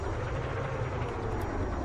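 A helicopter in the Red Crucible: Firestorm video game gives off a steady, droning rotor-and-engine rumble. It stays close and constant throughout, with no talk over it.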